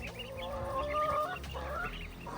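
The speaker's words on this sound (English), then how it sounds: "Look at you walking around, little baby chick." Baby chicks and chickens cluck softly close by outside a pallet-wood coop, with a few high peeping calls mixed in among the low, throaty clucks.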